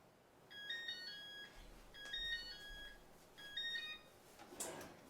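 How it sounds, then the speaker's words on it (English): A kitchen oven timer goes off, faint electronic beeping in three short repeating bursts, with quiet room noise between them. Nobody speaks. "All right, the timer's off."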